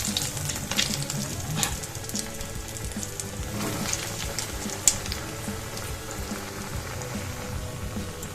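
Egg kabiraji cutlets dropped one at a time into hot mustard oil, giving a steady, dense sizzle and crackle of deep-frying with a brief sharper pop midway, close and continuous.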